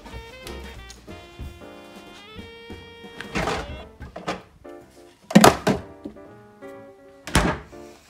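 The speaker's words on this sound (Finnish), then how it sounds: "Mä laitan tän tonne jääkaappiin" A beer is put into a fridge and the door shuts with a solid thunk, followed by a few more knocks and taps over background music.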